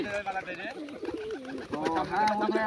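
Teddy pigeons coo in soft, rolling, repeated phrases close by, with other bird sounds and a faint voice in the background.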